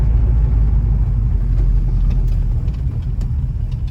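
Ford Mustang Mach 1 engine idling with a steady, deep low rumble, close and constant throughout, with no talking.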